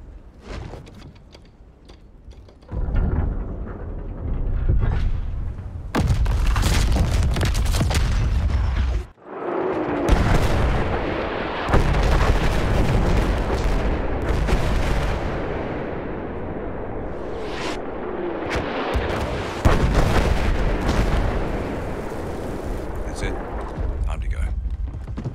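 Heavy artillery barrage from dreadnought battleships in the Battlefield 1 video game: deep, booming blasts and long rumbling roars, broken by brief gaps, with voices speaking between the explosions.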